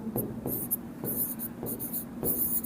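Marker or chalk writing on a board during a physics lesson on image formation by a convex lens: a run of quick, scratchy strokes in short bursts, close and clear, with a steady low hum underneath and no talking.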